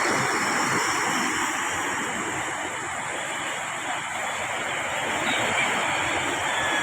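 Sea surf after a storm rolls continuously in a broad steady wash, with wind noise on the microphone and no distinct breaks, heard fairly close and alone.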